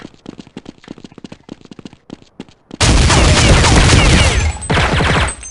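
Rapid gunfire from Counter-Strike 1.6 on a laptop: a burst of sharp shots in the first half, then a continuous loud roar of heavy fire with explosions, without talk.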